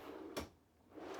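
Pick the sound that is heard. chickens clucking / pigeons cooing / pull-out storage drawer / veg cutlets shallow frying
pull-out storage drawer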